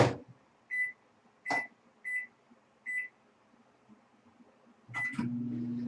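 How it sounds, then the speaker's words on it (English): A microwave oven being set with a few short beeps from its keypad, then the steady hum of the oven starting up and running, close and alone. "So let's get this microwaved. I'm going to put it in for 15 minutes and see how it goes."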